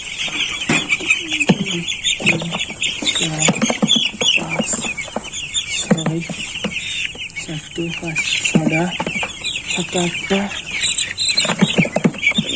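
Young broiler chickens, about seven days old, cluck and cheep busily up close on a farm while being caught by hand and counted into a bucket, with a voice talking over the flock.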